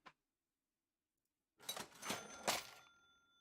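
A cash register sound effect being auditioned: a brief click at the start, silence, then a loud burst of mechanical clattering and ringing lasting over a second before fading, with no talk.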